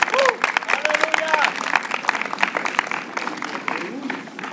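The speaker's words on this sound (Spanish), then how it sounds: "Denle un aplauso a Cristo." Church congregation at a revival service applauding together, a dense steady patter of clapping with voices and shouts of praise mixed in, fairly loud and sustained throughout.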